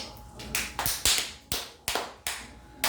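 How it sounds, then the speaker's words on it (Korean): About seven sharp, separate hand claps ring out in a classroom during a grammar lesson, spaced roughly evenly and loud and close, with no talking over them. "박수"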